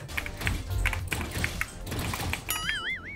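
Typing on a custom mechanical keyboard at a PC bang, a steady run of close, crisp key clacks with no talking.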